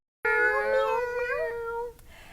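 A person imitates a cat with one long, clear, close meow that wavers in pitch and is voiced alone after a moment of silence.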